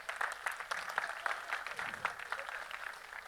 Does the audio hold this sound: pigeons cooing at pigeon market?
no